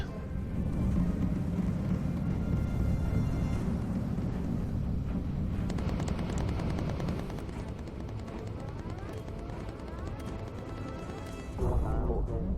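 Sustained rattling machine-gun fire from a bomber crew's turret guns in Bomber Crew, set over a steady droning aircraft engine roar and continuing for several seconds before easing off.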